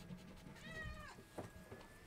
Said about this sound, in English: Here comes the cat.